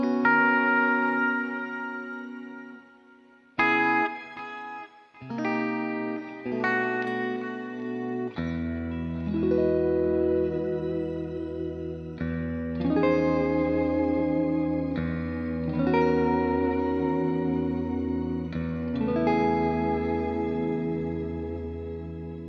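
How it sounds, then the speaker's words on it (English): Clean guitar chords through a NUX Mighty Plug Pro MP-3 ring out and trail off into long echoing reverb and delay repeats and a shimmering, washed-out tail that hangs behind each strum. "So I hear reverb, delay, and a sort of a shimmer."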